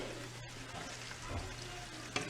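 Carrots cooking in oil for a homemade hair oil are stirred in a pan, giving a soft, steady sizzle with faint scraping, fairly quiet and without talk.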